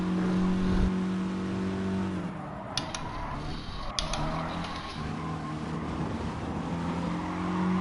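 Race cars revving and jostling at the start of a Gran Turismo Sport race, engine drones steady and loud throughout with brief mechanical clicks and shifts near the middle, no talking.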